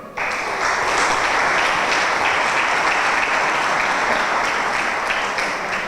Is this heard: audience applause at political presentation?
yes